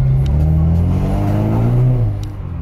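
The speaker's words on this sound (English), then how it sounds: "Yeah, you can hear the turbo way better now." A Cadillac ATS 2.0 turbo fitted with a Mishimoto intake accelerates with a loud, steady engine drone that rises in pitch before easing off near the end, heard close up at night.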